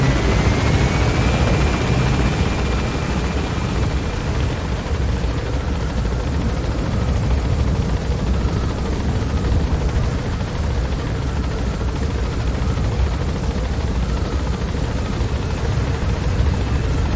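Helicopter in Metal Gear Solid V: The Phantom Pain arriving for an extraction to Mother Base, a loud steady rotor and engine roar that stays constant throughout with no talking.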